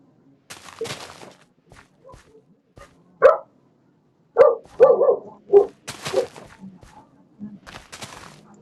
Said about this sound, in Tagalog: Sorry talaga sa ingay ng aso mga boy ah. Ganyan talaga pag maingay yung aso.